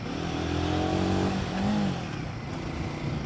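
A Royal Enfield Guerrilla 450 motorcycle engine revs steadily and close by, its pitch rising and falling through a continuous drone with no voices.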